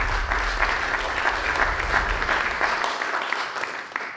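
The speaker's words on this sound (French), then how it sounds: "Je crois qu'on peut applaudir le film" A conference audience applauds a film at a talk about mountain guides and mountain regions adapting to change. Dense, even clapping carries on steadily at moderate loudness and then thins slightly toward the end.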